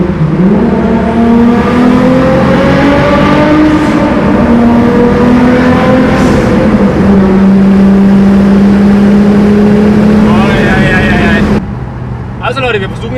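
Nissan Skyline R33 GTST street car with a GTX3076 turbo accelerating hard in third gear, a loud, steady engine drone climbing in pitch for about eleven seconds before cutting off with a brief turbo whoosh.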